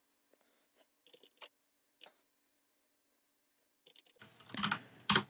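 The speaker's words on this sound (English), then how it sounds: "It's just so much easier to change it with a keyboard." Someone types on a computer keyboard while editing settings in OpenTX Companion: sparse, close key clicks at first, then a quicker, louder flurry of keystrokes at the end, with no talk.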